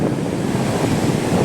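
Sea waves surging against rocks on the coast at Visakhapatnam, a loud, dense roar of churning water with wind buffeting the microphone.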